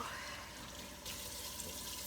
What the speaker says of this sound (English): Get all the veggies soaking in nice clean water.